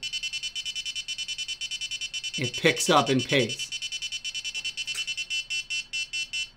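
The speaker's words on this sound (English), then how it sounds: "you can hear the beeping pattern" Rapid, steady electronic beeping in a regular pulse from an Arduino ultrasonic collision detector buzzer, with someone talking briefly over it partway through.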